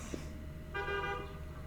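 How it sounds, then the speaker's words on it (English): A car horn sounds one sustained honk midway, near and clear over a low background rumble, with no talking during it. "Who's honking?"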